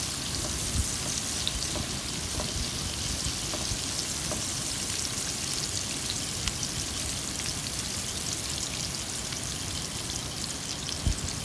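Onions fry in hot oil until brown, a dense continuous sizzle with fine crackling pops, close and steady throughout, no voices.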